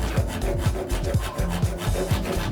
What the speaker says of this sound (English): lower the saw